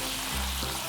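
Shishito-style chili peppers simmering in soy sauce with mirin in a pan over low heat, giving a steady soft sizzle and bubbling with a brief low thump partway through.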